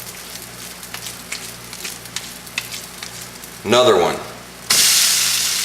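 Food browning in a frying pan for a healthy cheat meal sizzles as a steady low hiss under brief speech, then a loud burst of crackling frying swells near the end.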